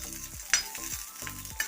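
Four green chillies and a few garlic cloves frying in a pan for chutney, a soft steady sizzle with a few brief stirring scrapes, close and moderately quiet, no voices.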